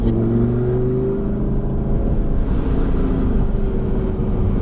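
A Lamborghini Gallardo engine drones loud and steady at the Lédenon race track, a dense low rumble with rising harmonic tones as it pulls forward, close and continuous with no voices.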